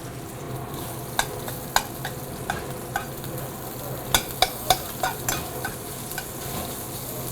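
Southern-style sausage sizzles steadily in a pan, a constant frying hiss broken by a dozen sharp scrapes and clacks of a utensil stirring it, close and fairly loud with no voices.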